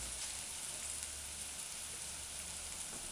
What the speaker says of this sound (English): Add the shredded dried chili pepper and the grinded garlic and ginger, and just allow it to saute.